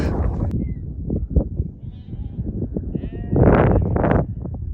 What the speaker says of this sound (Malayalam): ആട്ടിടന്മാരെ ആടുകളെ മേച്ച് മെല്ലെ മെല്ലെ ഇവിടുന്ന് മൂവായിക്കൊണ്ടിരിക്കുകയാണ്